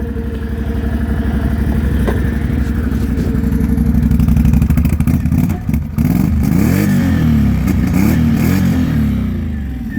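A 2017 Can-Am Outlander 570 XMR ATV engine runs at a loud, close idle with a chugging pulse, then revs in rising and falling bursts of throttle.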